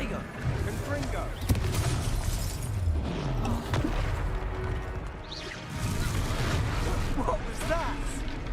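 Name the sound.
Confringo explosion spell in Harry Potter video game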